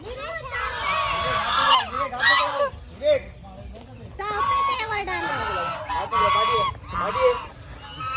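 Loud, repeated honking calls from several birds close by, overlapping in bursts throughout, with people talking in the background.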